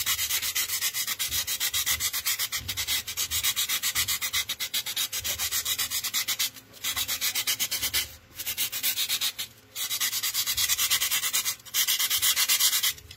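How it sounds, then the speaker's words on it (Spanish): Carving a figure's face by hand, a rapid, steady rubbing and scraping close to the microphone, repeating in quick strokes with a few short pauses, with no talking. "Acá solo estoy tallando para dejarlo bonito, miren."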